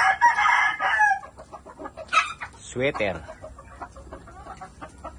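Gray hens and gamecocks cluck and squawk loudly up close, with a rooster-like crowing burst in the middle, while someone speaks briefly.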